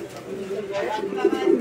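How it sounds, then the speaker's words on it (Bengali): A restless pigeon at a Bangladeshi pigeon sale makes low, brief cooing sounds close up, mixed with a person talking over it. "এই কবুতরটা অনেক বেশি ছটপটা"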